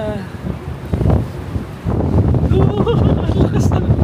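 Strong wind at Lake Como in Bellagio buffets the microphone in heavy, roaring gusts, swelling louder partway through and staying constant, with a voice speaking faintly underneath.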